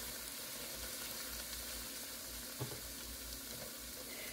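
Steady, fairly quiet sizzling of flour hitting hot pan drippings left from frying country fried steak, a continuous crackle with a faint stir near the middle, no voices.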